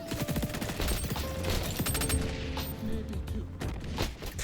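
Assault rifle gunfire in the shooter game XDefiant, with dense rapid bursts of shots and fusillades from several weapons at close to mid range, a voice talking over the action.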